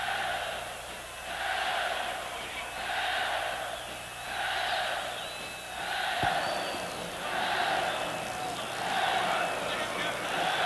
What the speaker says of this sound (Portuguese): Torcida faz a festa.